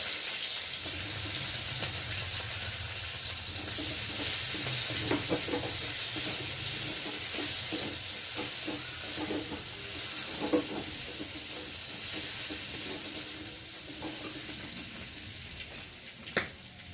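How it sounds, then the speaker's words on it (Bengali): Chopped onion frying in hot oil left over from frying fish, a steady close sizzle with intermittent stirring scrapes and clinks of a spoon against the pan, no talking. "ওই তেলের মধ্যে দিয়ে দেবো কুচানো পেঁয়াজ।"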